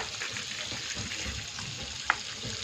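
Vegetables sizzling in hot oil and butter for a hotel-style veg Kolhapuri: a soft, steady hiss of frying, close but fairly quiet, with one brief sharp click near the end.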